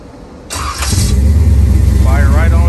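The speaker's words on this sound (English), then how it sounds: "Y'all hear that fuel pump winding up?" A fuel-injected 383 Chevy small-block fires up after a short whine as the fuel pump winds up, then settles into a loud, close, throbbing idle, with a voice talking over the start.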